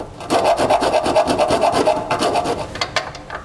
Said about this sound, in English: We can do this just by using a file to take away a little material.